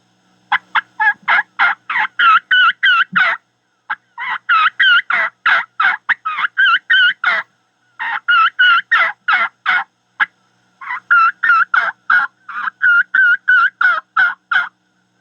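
A hunter's turkey call imitates the plaintive, pleading calls of a scared young turkey lost from its family. Close, loud runs of rapid yelps come in four bursts separated by short pauses, with no talking.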